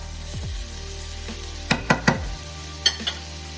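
Butter melts in a skillet for loaded potatoes, giving a soft steady sizzle that is interrupted by several sharp, close taps and scrapes of a utensil against the pan.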